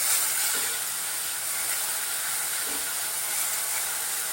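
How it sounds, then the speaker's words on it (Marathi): Finely chopped onion fries with garlic in a pan for homemade pizza sauce, giving a continuous, even hiss with faint occasional stirring, close and unbroken. "कांदा पण चांगला लाल होईपर्यंत आपण परतून घेऊया"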